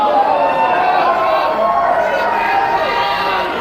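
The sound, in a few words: boisterous wrestling crowd at the Colonial Theater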